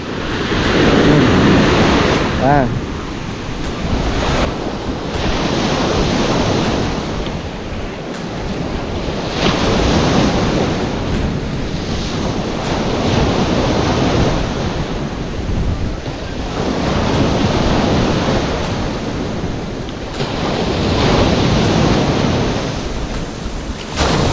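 Strong waves breaking on a beach, heavy surf that swells and recedes in slow surges every few seconds, loud and close, with constant wind buffeting the microphone and no voices.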